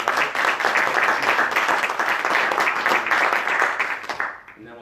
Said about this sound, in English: So please, everybody, just give them all a round of applause.